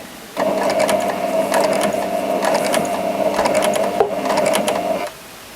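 A Janome 780DX industrial-style home sewing machine stitching, a fast, steady mechanical whirr with rhythmic needle clatter in several bursts, close and alone for about five seconds before stopping.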